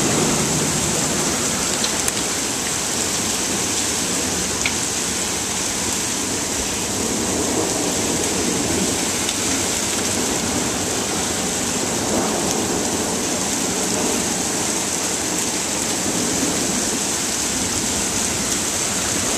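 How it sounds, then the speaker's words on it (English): Heavy rain pours in a steady broadband roar with thunder rumbling underneath, a long continuous downpour with no voices. "Here's our much needed rain."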